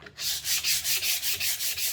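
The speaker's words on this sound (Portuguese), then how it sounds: "Vou lixando, não precisa colocar muita força, tá?" Painted pallet wood is sanded by hand with steady back-and-forth strokes, about eight rhythmic rasping passes close up, with no voices.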